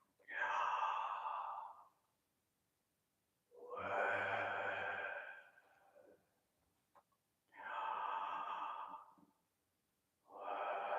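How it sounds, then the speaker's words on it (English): A patient doing a guided breathing technique for hypertension control takes long, loud, breathy exhalations, four slow sigh-like breaths spaced a few seconds apart with quiet gaps between them and no talk. "can you hear the breathing?"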